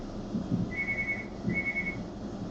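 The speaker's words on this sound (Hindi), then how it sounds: "अरे गार्ड साहब भी आ गए सीटीवीटी बजाते हुए।" A security guard's whistle gives two short, shrill sustained blasts in quick succession, faint and distant over a low murmuring room background.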